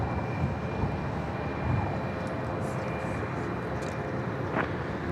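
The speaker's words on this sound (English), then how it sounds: "That incoming flight was NetJets Flight 578, a Cessna 680A Citation Latitude." A NetJets Cessna 680A Citation Latitude business jet arriving at Dallas Love Field, a faint steady engine roar at a distance, with no one speaking.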